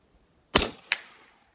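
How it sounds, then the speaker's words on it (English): A .44 Special handgun loaded with a light charge of 2400 powder fires one sharp, close report, followed a moment later by a second crack and a ringing metallic tail that dies away quickly. "Sonic crack wise, that was the first shot."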